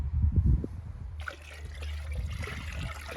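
A cloudy liquid solution is poured into water for soaking single-clove garlic before planting, a soft trickling and gurgling pour that starts after a low handling bump and runs steadily at moderate volume.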